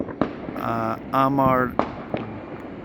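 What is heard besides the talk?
fireworks exploding at Diwali in London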